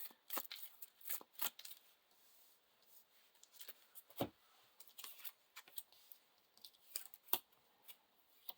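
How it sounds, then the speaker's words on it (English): Quiet, scattered riffles and sharp paper snaps come from an encounter deck being shuffled for The Lord of the Rings living card game. The short bursts are spread across a mostly silent background. "Shuffling the encounter deck."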